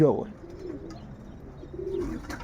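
Low domestic pigeon coos rise and fade a couple of times, fairly quiet, over a faint background hum.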